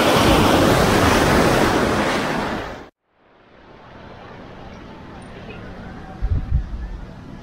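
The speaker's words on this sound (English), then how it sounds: "It is a windy day today." Strong wind roars across a beach at Playa La Ropa in Zihuatanejo, Mexico, loud broadband rushing that cuts out abruptly, then returns as softer gusts with surf in the background and a brief voice near the end.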